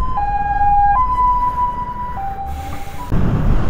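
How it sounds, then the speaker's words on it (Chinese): An ambulance siren passes on the road, a loud, close two-tone wail that alternates between high and low pitches and ends with a burst of rushing road noise. "救护车来了"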